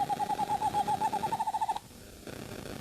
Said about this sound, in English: So this is the call of the eastern screech owl.